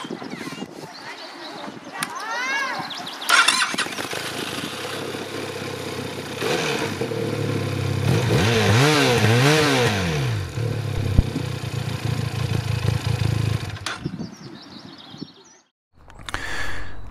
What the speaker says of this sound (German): dann machen wir mal unsere Probefahrt auf der Benelli Leoncino 500